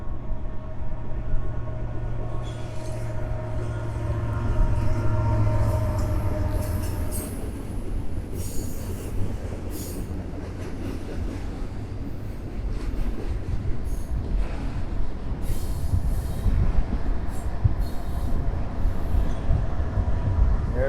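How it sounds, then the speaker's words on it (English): A train rolls past through woods near the water, a steady low rumble of wagons with a sustained tonal hum early on, then brighter rattling and faint wheel squeal as the cars go by, with no one talking. "And here comes a train."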